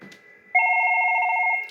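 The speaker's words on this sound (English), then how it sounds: "I'm going to simulate a call coming in from this phone" A Fanvil X6U SIP desk phone rings for a simulated incoming call, a loud steady electronic trill starting abruptly after a soft background tone, close and alone.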